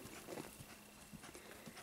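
A working piebald horse walks with steady, evenly spaced clip-clop hoofbeats, fairly faint and alone with no talk.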